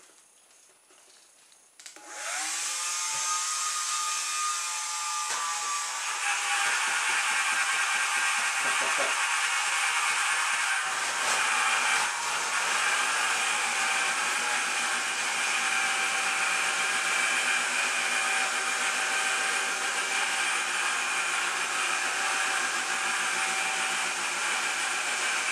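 A hair dryer powers a pizza tray hovercraft, starting from quiet with a click, then spinning up into a loud, continuous blowing whine that holds steady with slight rattles and scraping.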